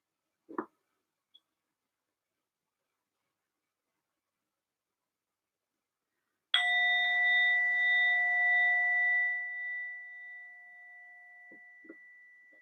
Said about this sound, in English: So we'll begin this movement practice with the sound of the bell.